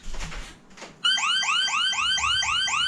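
A Sonoff TX Ultimate smart touch switch sets off its alarm: a loud, rapid run of repeating rising electronic chirps that begins abruptly after a second of low background noise and continues steadily.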